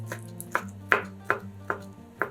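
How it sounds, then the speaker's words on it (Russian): A knife dices cooled boiled chicken liver into small cubes on a cutting board, six sharp, evenly spaced chops heard up close. "Нарезаем ее небольшими кубиками."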